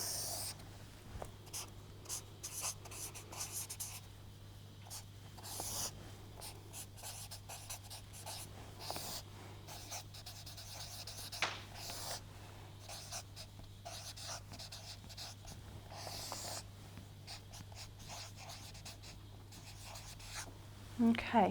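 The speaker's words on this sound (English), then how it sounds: "I'm just going to kind of draw a quick table up on here" Pen drawing a quick table on a surface during a therapy session, heard as long stretches of faint scratchy strokes over a steady low hum, with soft intermittent talking underneath.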